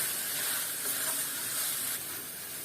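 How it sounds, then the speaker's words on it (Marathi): Masala roasting in a pan over a low flame for Konkani fresh methi rice, giving a steady, soft hiss of gentle sizzling that carries on evenly throughout with no one talking. "लो फ्लेम लो केले आणि 1 मिनिट भर भाजून घेवता"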